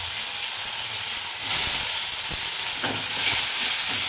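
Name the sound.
vegetables and tomatoes frying on low flame in a thin kadai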